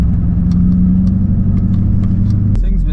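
The engine of a lifted Ford F-250 truck runs while driving, a loud steady low rumble that shifts in pitch near the end.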